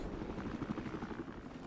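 A helicopter in an 8vs8 online strategy video game match gives off a steady, pulsing rotor chop at moderate loudness, with no voices over it.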